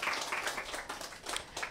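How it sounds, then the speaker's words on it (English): An audience claps in applause for an evening event's sponsor, a brief burst of steady, fairly distant clapping from a crowd. "let's give a round of applause for our sponsor for tonight"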